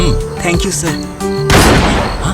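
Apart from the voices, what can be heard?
gunshot in a building, TV drama sound effect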